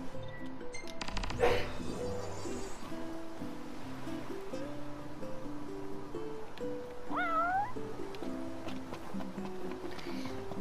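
A cat meows in the video game Final Fantasy XV, a short rising cry standing out over a steady bed of game music and ambient surf-like noise, with a brief louder burst earlier.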